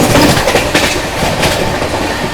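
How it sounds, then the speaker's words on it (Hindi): CR Rajdhani Express overtaking the Gondwana Superfast Express from Nizamuddin to Raigarh, heard from inside a first AC coach: loud, steady rumble of passing rail cars with rhythmic clickety-clack of wheels over joints, no voices. "अपनी CR राजधानी एक्सप्रेस ओवरटेक कर रही है।"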